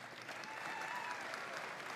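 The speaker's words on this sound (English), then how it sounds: "So really, just give them a round of applause." Applause from an audience at a 2019 PCH District robotics event's opening ceremonies in Gainesville, a dense, even wash of many hands clapping, faint and distant throughout.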